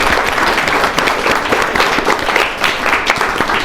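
Wedding guests applaud the ring bearer during a ceremony, a steady burst of dense clapping filling the room for several seconds.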